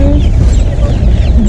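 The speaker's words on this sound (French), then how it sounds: "Je vous laisse écouter le bruit en arrière-son. Et oui, nous avons des petits poussins avec nous." Small chicks cheep and peep steadily up close while being carried along during transport in Laos, a continuous busy chorus over low rumbling vehicle noise.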